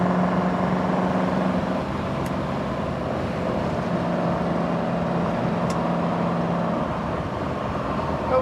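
A 1967 Ford Mustang K-code with a high-performance V8 cruising on the road, a steady low engine drone and road rumble heard from inside the car, continuous and fairly loud, with no talking.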